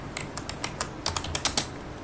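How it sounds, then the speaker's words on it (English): Rapid typing on a computer keyboard, a string of light, irregular key clicks at close range with occasional sharper taps, quiet and free of talk. "So you can type the rules here"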